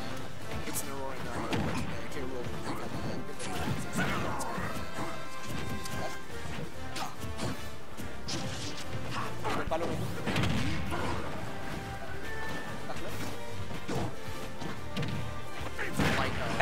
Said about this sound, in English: I like those down smashes from Incineroar